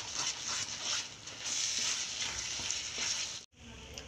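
Pav bhaji with melted butter and onions being stirred in a pan, a continuous close sizzle with scraping stir strokes that cuts out briefly near the end and then resumes.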